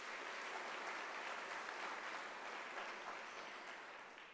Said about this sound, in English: I really think that deserves another round of applause